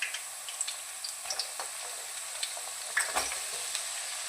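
Coarsely ground paste fries in oil for homemade hair oil, a thin steady sizzle with light crackles and a few stirring scrapes, fairly faint and free of speech.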